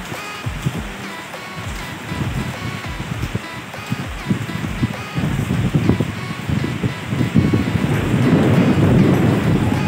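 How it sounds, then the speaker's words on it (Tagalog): Gusting wind carries rain on a wet Good Friday, a steady broadband rush that builds louder toward the end. "Hangin siya guys, na may kasama ulan."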